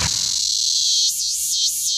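Male cicadas sing a loud, shrill mating call in a big-city setting, a steady high-pitched drone that pulses in rhythmic waves near its end, with nothing else heard.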